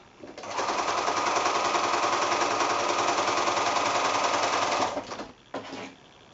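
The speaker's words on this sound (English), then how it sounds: "We're just again doing a 1/4 inch seam allowance, and just sew that on." A sewing machine stitches a quarter-inch seam on a quilt block. The close, steady mechanical whir runs without a break for about four and a half seconds, stops, and then returns in one brief burst.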